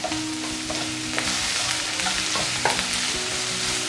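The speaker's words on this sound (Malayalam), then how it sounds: "നമുക്ക് ഈ സവാളയൊന്ന് നന്നായിട്ട് വഴറ്റിയെടുക്കാം" Sliced onions and slit green chillies sauté in a pan for an egg curry, a constant dense sizzle with occasional stirring clicks, close and continuous.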